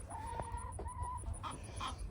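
Backyard chickens in Florida cluck nearby in short, throaty calls, a few drawn-out notes among quick clucks, against quiet outdoor background.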